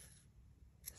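Scissors snip through knitting yarn in a quiet room, a single short crisp cut near the end after near silence.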